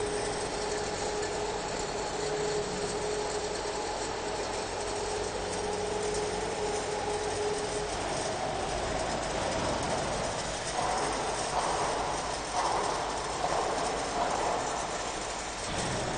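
A rotary drum screen for sorting stones turns on its support rollers at a machinery factory, giving a continuous rumbling, clattering mechanical drone at steady level throughout, with no voices.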